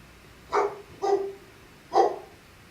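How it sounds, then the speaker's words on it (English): A dog barks at the mail carrier: three sharp, loud barks close by, the first two in quick succession and the third after a short pause, with no one talking. "I apologize for my dog barking."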